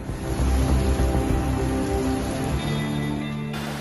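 Heavy rain pours steadily during a storm in Petrópolis, Rio de Janeiro, a dense continuous hiss with low rumbling underneath that eases slightly toward the end.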